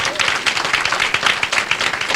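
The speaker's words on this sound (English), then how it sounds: "Can we give them another round of applause?" Audience at a house grand opening event bursts into a round of applause, a loud, close wash of many hands clapping with a few scattered voices mixed in.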